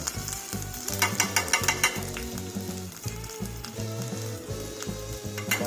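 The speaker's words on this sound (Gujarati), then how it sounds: "હવે નાખી રહ્યા છે હળદર." Turmeric goes into a frying potato mixture for village-style vada pav, a continuous close oil sizzle with busy stirring and scraping against the pan, no speech.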